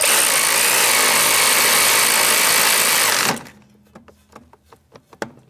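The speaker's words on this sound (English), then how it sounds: "I'm going to take my 17mm socket and I'm going to snug these up before I torque them" A 17mm socket on a ratchet snugs up the rear brake caliper bolts on a Jeep Renegade. Loud, steady broadband whirring from a power tool comes first and stops abruptly, then a series of sharp, close metallic clicks and taps follows.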